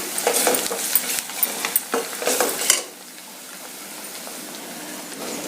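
Chopped broad beans with turmeric are scraped and stirred in a frying pan in repeated close clattering strokes over a sizzle, which then settles into a quieter steady hiss.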